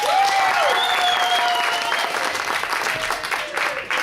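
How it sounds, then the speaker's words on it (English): Theater audience at a Virginia stage production applauding in a steady, full wash of clapping, with a voice and some whistle-like tones briefly rising over the crowd noise at the start. "Everybody give him a big round of applause."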